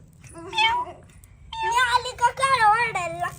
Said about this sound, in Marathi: हा काय हा म्याव म्हणता हो